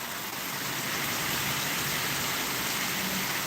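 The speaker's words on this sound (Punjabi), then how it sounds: "ਮੀਂਹ ਨੇ ਪੂਰਾ ਜ਼ੋਰ ਦਿਖਾਇਆ ਹੋਇਆ" Heavy rain pours steadily in a dense, even hiss, with no voices heard over it.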